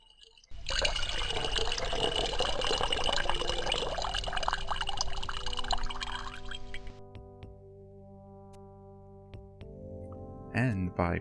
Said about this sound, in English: by pouring water from the urn upon the ground